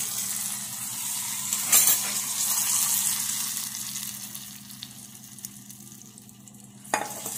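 Hot tempering poured onto peanut chutney gives a steady frying sizzle with a sharp crackle burst near the start, faint stirring and metal clinks, and a brief knock toward the end.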